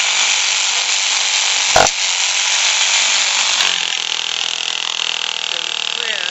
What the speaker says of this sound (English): I'm actually drilling down through the wood, through the framing.